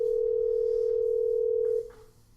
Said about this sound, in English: We're recording and it's ringing.